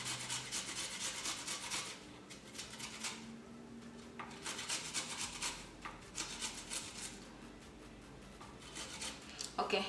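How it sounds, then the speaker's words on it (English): Fresh ginger is rubbed on a hand grater in a home kitchen, producing repeated rasping scrapes in short bursts with pauses between them, fairly quiet and close. "I'm going to use my grater just to get all the flavors out of there"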